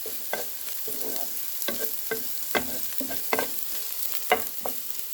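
Oil frying for a biryani, with a spoon stirring and scraping the pan in repeated clacks over a steady close sizzle.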